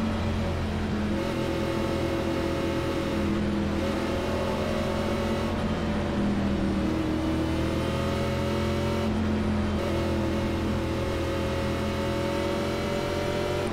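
Race car engines roar continuously in the iRacing simulation at Phoenix Raceway, a steady loud drone of multiple stock cars with shifting pitch as they accelerate in a pack, with no talking.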